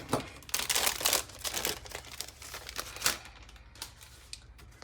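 Plastic packaging crinkles and crackles while a planner is unboxed, loud irregular bursts of rustling close up that ease off toward the end.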